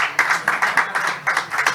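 Audience applause at a concert, a short burst of rhythmic group clapping with distinct beats, fairly close and loud.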